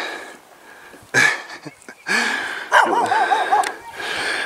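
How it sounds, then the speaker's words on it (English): Dogs bark in sharp, loud repeated bursts near a parked vehicle in the Colorado mining town of Cripple Creek, with whining yips between barks and no talk. "They bark at me and not the jackasses."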